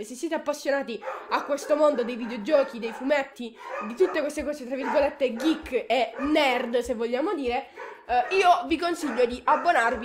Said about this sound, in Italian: Mi scuso per i cani che stanno abbaiando